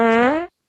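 A single fart sound effect from a soundboard, a short buzzy rasping blurt that rises slightly in pitch and cuts off abruptly after half a second.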